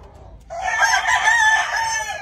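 An Albany gamecock rooster crows loudly and close by in one long, strong call lasting nearly two seconds, with no talk over it.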